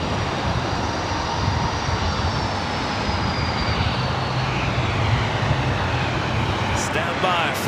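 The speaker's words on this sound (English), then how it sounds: "This is Southwest Airlines Flight 5121 heading to SFO in a 737-700" Southwest Airlines Boeing 737-700 jet engines roaring steadily at LAX, a loud sustained broadband rumble and whine filling the whole stretch, with people talking over it.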